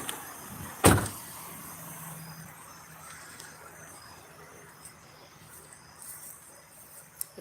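A car door thuds once, loud and close, as someone climbs out of the car, followed by a quiet outdoor hum and faint rustling.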